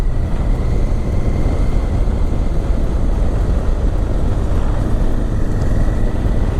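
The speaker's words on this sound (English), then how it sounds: "We'll give the drone a little go." A drone flies close by, its motors giving off a loud, steady droning whir that holds an even pitch throughout, with no talking.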